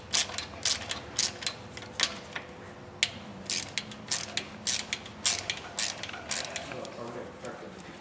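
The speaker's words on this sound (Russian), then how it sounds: "Откручиваем болты крепления клапанной крышки головкой на 8." Ratcheting clicks from an 8 mm socket wrench loosening the valve cover bolts on a Renault engine, a close run of sharp, rapid metallic ticks that come in bursts, with someone talking under them.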